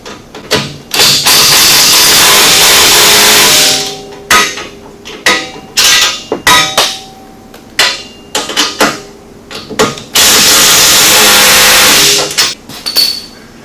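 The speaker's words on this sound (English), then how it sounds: "I can go ahead and tighten up these other 4 bolts" Rear bumper bolts on a 900S being tightened with a power tool, several loud, sustained rattling bursts of a few seconds each, separated by short clanks and metallic knocks, close and with no talking.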